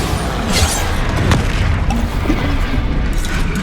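A Bombarda explosion spell in the video game Hogwarts Legacy, a loud booming blast with crashing debris amid ongoing battle noise, heavy low rumble filling the whole moment.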